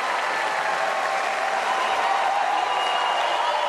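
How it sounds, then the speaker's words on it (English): A crowd cheers and applauds continuously at the E3 2018 Ubisoft press conference, a dense, steady roar of clapping and voices filling the hall without a break. "The crowd is cheering"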